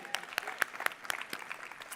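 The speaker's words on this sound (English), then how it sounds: "Give yourselves a round of applause for those who raise your hand" Small audience at a motivational talk giving a sparse, faint round of applause, a handful of distinct claps scattered irregularly over two seconds.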